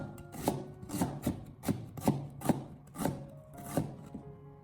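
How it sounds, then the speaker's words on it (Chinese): Knife slicing half a fresh onion into thin strips on a cutting board, about nine evenly spaced, close chopping strokes with no talk. "我们将洋葱改刀切成洋葱丝"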